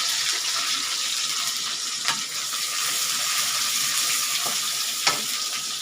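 Chopped onion, green chili and curry leaves fry in a pan for an egg curry, giving a continuous bright sizzle with a few faint clinks of stirring and no voices.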